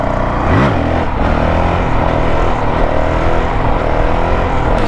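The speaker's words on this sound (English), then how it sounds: "this bike is just so smooth to wheelie now" A 2023 Honda CRF450X dirt bike fitted with a Vortex ECU revs hard while lifting into a wheelie. The engine note climbs sharply early on, then holds a loud, steady, close roar.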